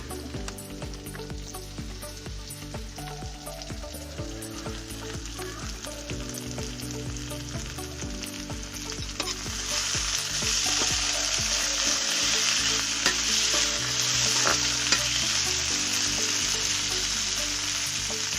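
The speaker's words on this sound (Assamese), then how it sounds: "পিঁয়াজখিনি ভাজা হৈ গ'ল আৰু এতিয়া দিম আলু" Potatoes and onions frying in a pan for a fish and jilmil greens dish, a steady dense sizzle throughout with stirring clatter, growing louder and brighter about halfway through as the potatoes go in, no voices.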